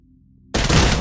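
A single sharp Smart Pistol shot in Titanfall, a sudden loud crack after near silence, followed by a brief, dense burst of noise.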